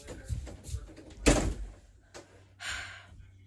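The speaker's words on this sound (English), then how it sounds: "Shut my door." A bedroom door in a home is shut with a single sharp thud, set between soft rustling and faint sounds of people nearby.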